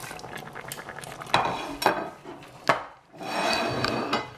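Green beans, red beans and pasta tumble into a cooking pot with a few sharp clatters and knocks, followed by a soft rustling, scraping stir, all close and fairly quiet.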